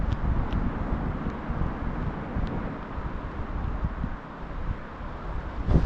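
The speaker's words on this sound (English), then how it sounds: "Lovely, nice and windy." Steady wind buffets the microphone outdoors in a low, continuous rumble with small gusts, no voices present.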